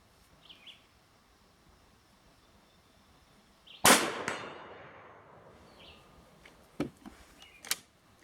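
Cartridges chambered in a Swiss K31 rifle, one sharp metallic bolt slam followed by a ringing decay, then a couple of quieter clicks and clanks, close in a quiet outdoor setting with faint birdsong.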